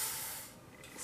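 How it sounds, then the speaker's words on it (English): A brief hiss of WD-40 silicone aerosol spray, loud at first and then tapering off, with a second short puff at the end. "spray some WD-40 silicone in there."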